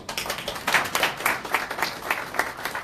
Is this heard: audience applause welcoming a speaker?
yes